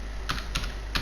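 Three separate key presses on a computer keyboard while a C program is being typed, each a crisp close click, spaced unevenly over about a second with no speech.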